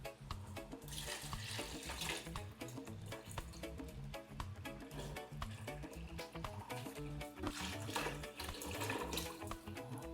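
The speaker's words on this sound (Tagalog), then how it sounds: "lagay na rin natin yung broth niya, yung sabaw niya" Beef broth being poured into a pot of Filipino pochero with baked beans, a steady splashing liquid flow running throughout with clinks and bubbling, no talking.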